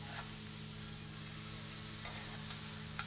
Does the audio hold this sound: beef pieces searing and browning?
yes